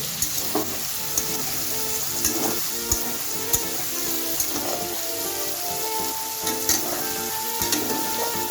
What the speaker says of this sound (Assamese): এতিয়া আমি পনীৰখিনি ভাজি লৈছোঁ